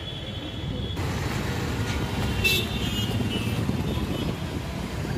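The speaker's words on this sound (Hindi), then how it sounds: "कितना ट्रैफिक होता है यहाँ पे" Steady roar of busy street traffic with vehicles passing continuously, loud and near, with no clear horn blasts standing out.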